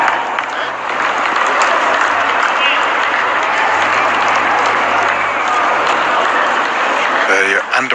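A cricket crowd applauds a six hit in a live match, with sustained, loud clapping and crowd noise from many spectators that stays at an even level before fading out near the end.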